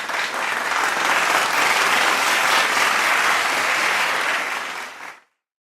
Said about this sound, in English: Let's welcome them with our virtual clap.